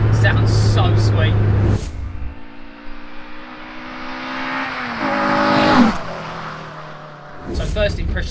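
A Renault Clio 182 engine rises in a long rev, climbing and then falling away, bracketed by louder bursts of noise at the start and end.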